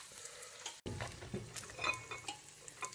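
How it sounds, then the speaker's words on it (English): Mushrooms cooking in melting butter beside beans in a breakfast burger pan sizzle softly, broken by scattered clicks and scrapes of a utensil moving food around. "the other side I have the butter melting and cooking up those mushrooms"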